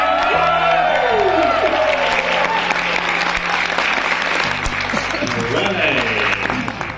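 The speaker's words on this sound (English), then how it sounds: "One more final round of applause for Sonam Dolma" Audience at an award ceremony during a Buddhist convention gives a loud, sustained round of applause with scattered cheers and whoops, steady for about seven seconds before easing slightly, with voices mixed into the crowd noise.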